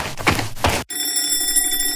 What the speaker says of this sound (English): That was the timer.